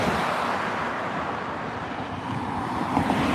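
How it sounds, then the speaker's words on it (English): Cars pass on a roadside street at moderate distance, a continuous broadband wash of tire and engine noise with wind buffeting the microphone, no talk over it. "Let these cars pass."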